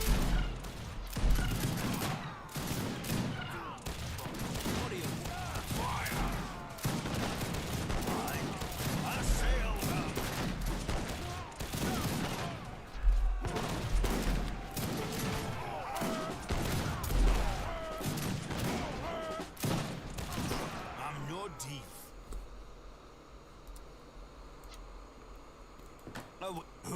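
Gatling camels firing in Age of Empires 3, a dense run of rapid gunfire bursts that rattles on steadily, then drops away near the end to a quieter ambient bed.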